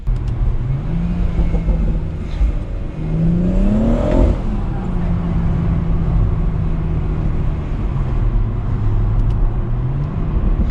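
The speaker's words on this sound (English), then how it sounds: "it's more engine noise which has just been pumped through the cabin" Steady, droning BMW M140i engine noise heard from inside the cabin at night, rising and falling in pitch as it revs through the gears, with someone talking over it.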